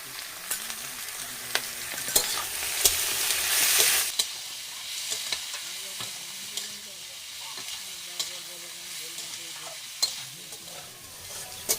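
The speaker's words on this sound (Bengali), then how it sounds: "বেগুনটা ভালোভাবে কষানো হয়ে গেছে" Brinjal sautéed in a pan with turmeric and ginger paste, close scraping stir strokes recurring over a soft ongoing sizzle, with a louder hissing burst early on.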